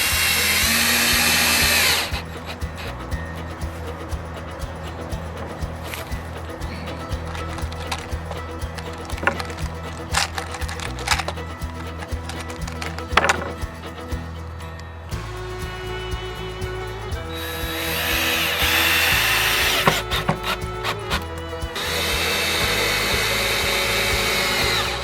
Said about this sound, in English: These screws are going right into the support.